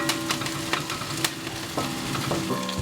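Garlic and green chillies frying in hot oil for an aubergine sambal, a steady close sizzle with occasional sharp crackles and stirring scrapes, no talk.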